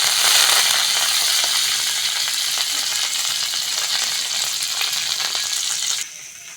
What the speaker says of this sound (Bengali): এইগুলো এবার হালকা হাতে ভেজে নেব।